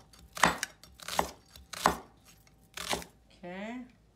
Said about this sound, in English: I think it's better I slice in half so they come out smaller pieces